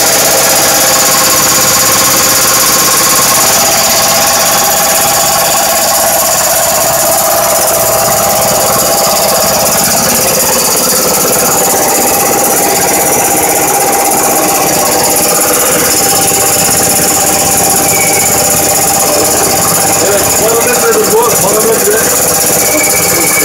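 A two-head air compressor starts up and runs in a workshop, giving a loud, steady mechanical roar that holds for the whole stretch, with no breaks and a faint squeal near the end.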